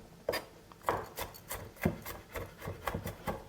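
Fresh garlic being coarsely chopped with a knife on a board for mesfouf couscous, a steady series of crisp, close chops at an even rhythm, with no talking.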